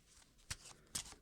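A small deck of 18 playing cards is handled close up, two crisp soft snaps of the cards within a quiet second.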